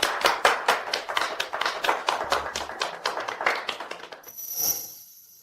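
A small group claps steadily with sharp, close hand slaps for about four seconds before the clapping fades out.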